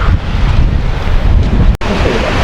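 Strong coastal wind buffets the microphone in a steady roar, with a brief dropout near the end and surf-like rushing underneath.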